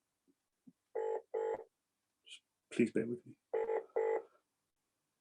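Telephone keypad tones beep in pairs at a school office phone, short evenly spaced bursts, with a person speaking briefly in between.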